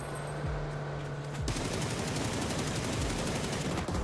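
Rapid automatic gunfire from a shooter video game, a dense continuous rattle of shots that grows heavier and louder midway and runs without pause, with no talking over it.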